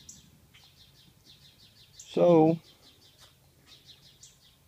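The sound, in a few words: birds chirping in a garden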